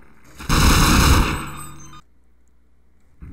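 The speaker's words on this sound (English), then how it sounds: "He's shooting me now?" Enemy gunfire rips out in the video game Half-Life: a loud, close burst of rapid shots lasting over a second, fading briefly, then cutting off into near silence before another shot begins.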